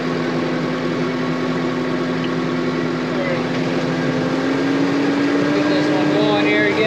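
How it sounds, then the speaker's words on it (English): A corn grinder hooked up to an auger hums steadily with a mid-pitched engine drone, continuous and fairly loud from start to finish, with a voice talking over it. "We are ready to grind some corn."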